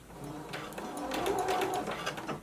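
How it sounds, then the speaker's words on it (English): Sewing machine stitching a seam with a 5/8-inch allowance and a back stitch, a quick rapid mechanical chatter of the needle running in short bursts, close and moderately loud. "Begin sewing, back stitch,"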